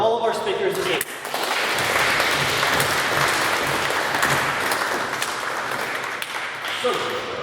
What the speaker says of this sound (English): if we can have one more round of applause for all of our speakers again